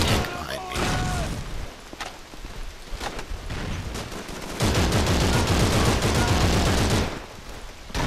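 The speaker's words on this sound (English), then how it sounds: "You guys stop shooting me, please" Enemy gunfire in Call of Duty 3, a dense rattle of rifle and machine-gun shots crackling steadily throughout, loudest in a sustained burst over the second half, with a voice speaking intermittently over it.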